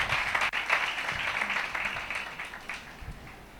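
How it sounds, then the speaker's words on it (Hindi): A church congregation at a Christian worship service claps together in dense, sustained applause, close and fairly loud, easing slightly toward the end. "इसलिए अपने लिए तालियां बजा दें।"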